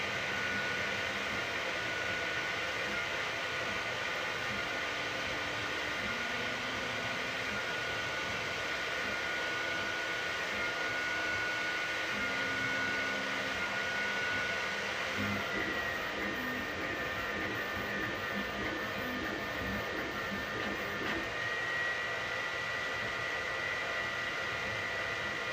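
A filament dryer runs beside a Sovol SV08 3D printer inside an enclosure, giving a steady, moderately loud whirring hum and airy hiss that continues unchanged throughout, with no talking.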